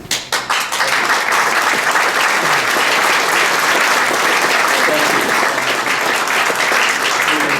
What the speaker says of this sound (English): Hold the applause till the end, I appreciate it.